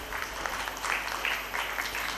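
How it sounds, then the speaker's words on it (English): Faint, distant applause from an audience at a live Miss World Bangladesh event, a soft, even wash of clapping throughout the short stretch. "Please give a warm round of applause for our partners."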